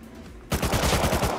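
Rapid automatic gunfire from the video game Rust bursts in after a quiet moment, a close, loud string of about eight evenly spaced shots.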